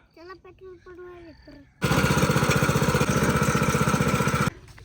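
A loud, steady tractor engine chugs with a rapid rhythmic rattle, starting abruptly after a few seconds of talk and cutting off near the end.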